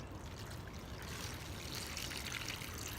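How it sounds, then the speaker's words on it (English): Warm water poured into a small container over a Civil War Confederate lock plate being prepared for electrolysis, a steady close trickle and splash that runs without a break for about three seconds. "I put warm water on it like this."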